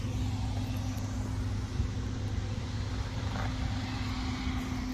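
A 1987 Yamaha Moto 4 YFM-350ER ATV engine, fitted with a brand new carburetor, runs at a steady idle with a constant low rumble, close and loud throughout, with no voices.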